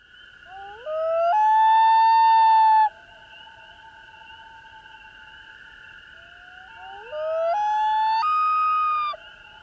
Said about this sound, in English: Let's listen to the summer voice of the common loon.